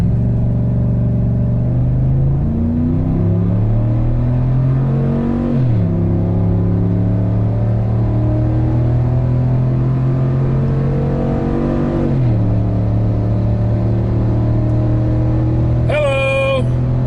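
A 2022 Chevy Silverado ZR2 pickup towing a 7,000 pound trailer accelerates hard from a stop, its loud engine climbing steadily through two gear shifts, ending in a brief squeal.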